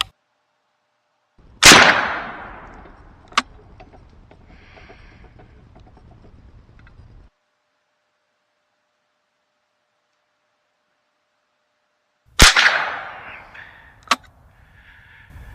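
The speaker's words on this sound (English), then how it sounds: "We're going to see how much movement we get out of them when these little tiny bullets slam into them." A Savage A17 rifle in 17 HMR fires at steel plates outdoors: two sharp, loud cracks spaced far apart, each followed a beat later by a fainter metallic ping of the bullet striking steel.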